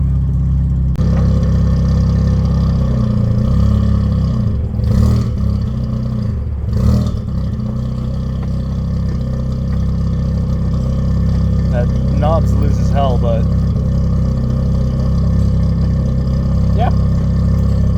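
A wide-body Mazda RX7 with a T04R turbo idles in a low, steady rumble that runs throughout, with a person talking over it.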